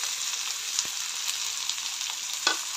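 Ridge gourd and curry leaves sauté in hot oil, giving a dense, continuous close-up sizzle with a few soft stirring knocks.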